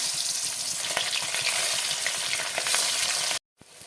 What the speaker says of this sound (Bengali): তেলটা পুরো গরম হয়ে গেছে ধোয়া বেরোচ্ছে দিয়ে দেবো একটা করে মাছ